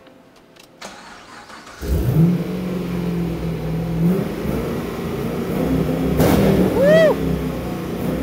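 A 2015 Chevrolet Camaro SS V8 rated at 455 horsepower cranks and catches, then idles with a loud, steady rumble and rises in a couple of revs, close by, with a brief shout over it.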